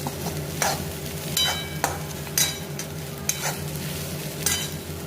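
Okra seeds crackling and sizzling in a hot pan, with repeated scraping stirs of a spoon at irregular intervals.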